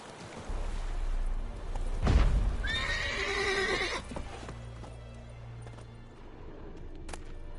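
Roach, the horse in The Witcher video game, gives one loud close whinny over clip-clopping hooves, followed by quieter ambient game sounds.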